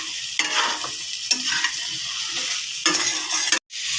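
Turmeric-spiced vegetables for Bengali shukto fry in a pan with a steady close sizzle, punctuated by several scraping stirs, then a brief cut to silence near the end.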